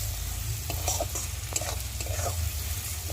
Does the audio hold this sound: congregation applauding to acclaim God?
no